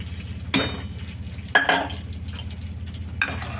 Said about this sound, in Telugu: ఇప్పుడు అవి మరిగినాయి కాబట్టి పప్పు వేసేద్దాం